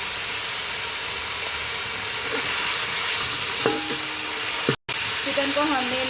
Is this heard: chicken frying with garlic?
yes